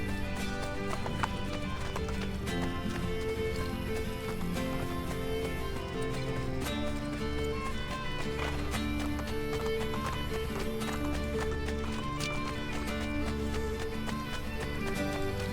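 Rapid hooves clip-clop in a steady galloping rhythm, with occasional whinnies, over a dense bed of music and game sounds in Assassin's Creed: Brotherhood.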